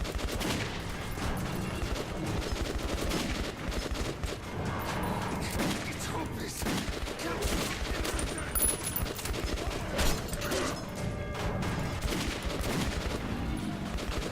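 Dense rapid gunfire from Metro 2033 Redux, a first-person shooter, with shots packed into fast bursts that run steadily through the whole stretch at a close, even loudness.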